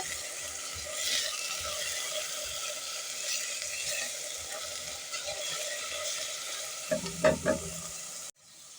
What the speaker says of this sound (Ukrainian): наливаю туди соняшникової олії, цибульку додаю, трішки підсмажую.